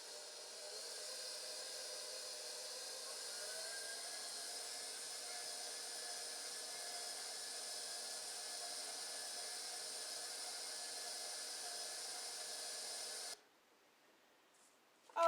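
An electric mixer whirs through blueberry muffin batter made from scratch, a steady, even whirring hiss that holds for about thirteen seconds before cutting off abruptly, with no talk over it.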